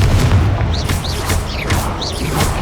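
Confringo blasting spells cast in Hogwarts Legacy, a rapid series of loud, punchy bursts and booms, several in quick succession with whooshing, sparkly tails over dense combat noise.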